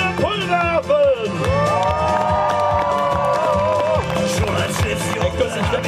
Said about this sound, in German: Einen Jubel für die Crew der Pulverhafen!